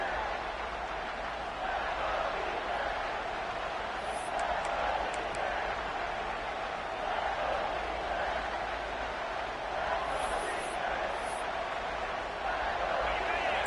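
Football stadium crowd roaring as the home defense tries to make a red zone stop, a steady, dense wall of massed voices that holds loud and even throughout with no pauses.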